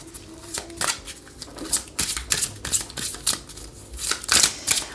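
Oracle cards shuffled by hand for a card reading, a run of quick papery riffles and slaps in close irregular bursts, loudest near the end, with no talking.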